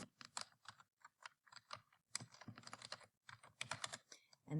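Computer keyboard keys clacking in short irregular bursts during a typing drill, crisp and close, with brief pauses between groups of strokes.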